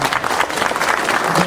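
An audience at a farmers' agricultural event gives a short, vigorous round of applause, many hands clapping at once in a dense, even burst.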